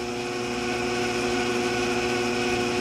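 A ShopSmith 10ER with a slow speed kit runs at about 208 RPM, giving a steady, even motor hum with no pauses, close and moderately loud.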